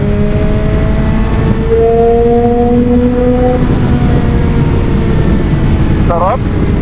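A BMW S1000XR motorcycle engine revs under throttle with a rising, wind-swept roar heard from the rider's position, steady and loud throughout, with pitch climbing in sweeps.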